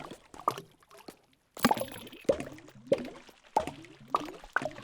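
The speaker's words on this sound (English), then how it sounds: "Oh, the splashing is so good. Every time I hear it, it's great." Water splashing in the video game Townscaper, a run of short, crisp plops and splashes repeating about every half second at moderate loudness, with no talk.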